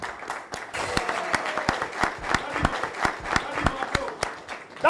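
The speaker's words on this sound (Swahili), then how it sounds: "Makofi pia kwa wakili Mugendi." A crowd at a cybersecurity law forum applauds lawyer Mugendi, with steady rapid clapping that carries throughout and distinct individual hand claps ringing out close by. Some voices are faintly mixed in.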